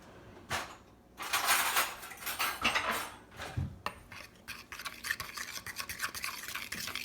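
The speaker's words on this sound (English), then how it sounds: "I'm going to grab a fork and just grind this stuff up" A fork scrapes and clinks quickly against a bowl while mixing protein pancake batter with vanilla protein powder, in irregular bursts of brisk stirring and grinding strokes, close by with no talking.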